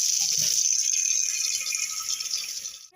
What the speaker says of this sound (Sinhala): මම දෙවෙනි වතාවට දැන් මේකට වතුර පුරව ගන්න තමයි යන්නේ